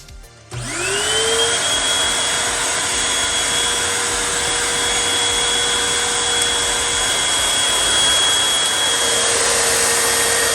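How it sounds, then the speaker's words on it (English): A vacuum cleaner plugged into a surge-protected lighted multifunction outlet switches on and spins up within a second into a loud, steady whining drone that runs unbroken, with a slight pitch shift near the end. "Let's do a vacuum cleaner too."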